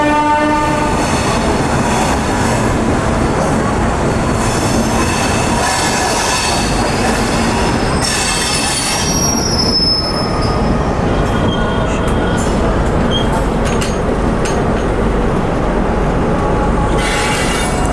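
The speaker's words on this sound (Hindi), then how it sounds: "2 छोटे और एक लंबा हॉर्न, यानी कि चेन पुलिंग का सिग्नल।" Indian train horn sounding the chain-pulling signal at a station, two short blasts then a long one, loud and near over rumbling rail noise.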